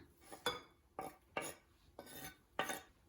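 Tomatoes and basil for Italian bruschetta are mixed with a utensil in a bowl, giving five rhythmic scraping, clinking strokes about half a second apart, close and fairly quiet with no talking.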